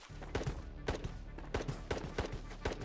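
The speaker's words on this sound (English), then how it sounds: "I'm hearing some thick gunshots" Muffled video game gunshots pop off in a steady series, roughly a few per second, distant and low over a constant background drone.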